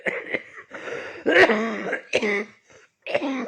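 Several short, harsh coughs and throat-clearing bursts from a nearby person, spaced with brief pauses, one louder fit in the middle.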